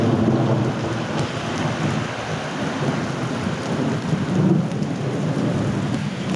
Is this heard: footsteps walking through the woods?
no